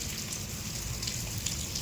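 Summer rain falls in a steady, faint patter with a soft wash of dripping, with no voices.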